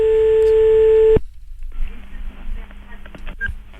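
A loud, steady telephone tone sounds for just over a second and cuts off abruptly, followed by a quieter stretch of line noise with faint clicks.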